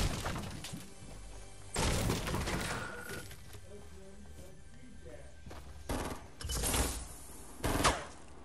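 Bursts of gunfire in the video game Fortnite, several sharp volleys and crashing impacts in separate clusters, with voices talking in between.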